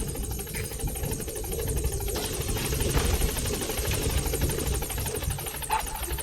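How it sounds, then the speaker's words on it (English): Helicopter in a video game idling on station at a landing zone, a steady, loud whirring engine and rotor drone that holds constant throughout with no talking. "this helicopter is so loud"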